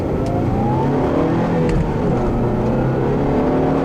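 A 2009 Toyota Corolla XRS with a manual gearbox accelerating on a test drive, engine droning steadily with rising pitch under road and wind noise, heard from inside the cabin.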